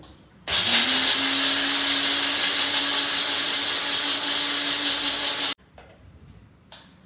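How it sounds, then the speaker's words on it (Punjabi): A grinder whirs loudly for about five seconds, grinding roasted black chickpeas with a steady high-pitched motor drone that rises slightly in pitch before it cuts off, followed by faint rattling. "ਕਾਲੇ ਛੋਲਿਆਂ ਆ ਜਿਹੜੇ ਭੁੰਨੇ ਹੋਏ ਆ ਇਹਨਾਂ ਨੂੰ ਗ੍ਰਾਈਂਡ ਕਰ ਲਓ"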